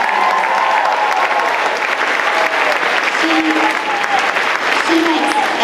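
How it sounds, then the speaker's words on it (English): A crowd at a fifth grade elementary school celebration applauds in a dense, sustained wash of clapping that stays loud and even throughout, with voices mixed faintly into it. "let's all give Ms. Herrera a big round of applause"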